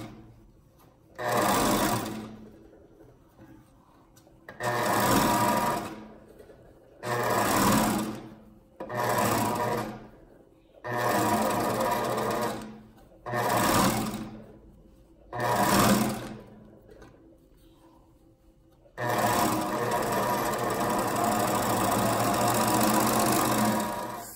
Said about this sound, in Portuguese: Agora eu vou passar na overlock pra fazer o acabamento da manguinha.